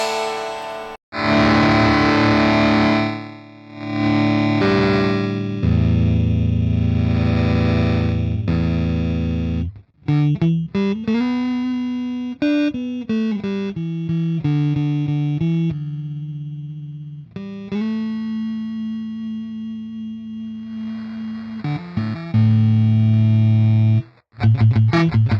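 Guitar played through a bit crusher drive on an Axe Fx III, loud and heavily distorted: thick sustained chords give way to gritty, buzzing single-note phrases and bends, continuous with only brief pauses and no talking.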